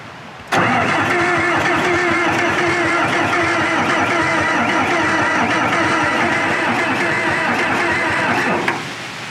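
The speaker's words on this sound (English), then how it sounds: "So I'm going to turn it over a little bit with no fuel from the other side." An 1980s bulldozer engine cranked over with no fuel, a loud, steady mechanical churning of the starter turning the engine, starting abruptly and running continuously for about eight seconds before stopping.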